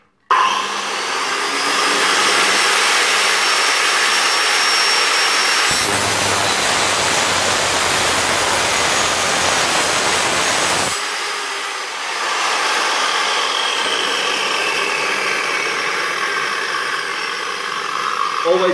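A power tool blade cuts through metal for a grain test with a loud, sustained whine that changes to a harsher, rougher grind midway and then returns to the whine before slowing.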